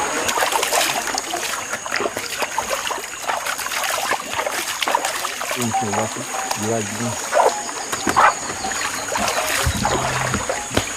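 Water splashes and trickles as a body is rinsed during a cleansing ritual, irregular splashes close by, with people's voices audible in the background at times.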